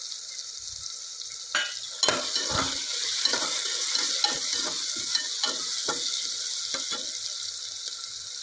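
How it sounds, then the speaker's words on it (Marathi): Chopped tomato with curry leaves sautés in a kadhai with a close, gentle sizzle. A scattered series of stirring clinks and scrapes sounds over it, and there is no talking. "टमाटा आपल्याला छान मऊसूद होईपर्यंत परतून घ्यायचा आहे।"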